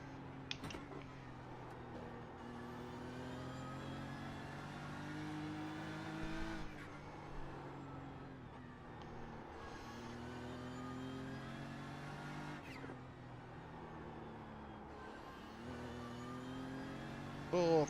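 A BMW M4 GT3 race car at the Nürburgring 24 in a racing video game, its engine revving hard and climbing through the gears, with brief dips at shifts before pulling again, loud and continuous throughout.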